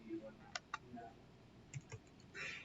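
Scattered keystrokes on a computer keyboard while typing a command, a few soft separate clicks and taps spread through a quiet room, faint and close.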